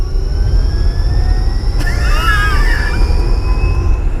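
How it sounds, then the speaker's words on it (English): An electric Porsche 911 with a manual gearbox gives a steady, loud roar with a thin high-pitched electric motor whine running through it, plus a brief chirping squeal partway through. "It sounds like a Formula E car."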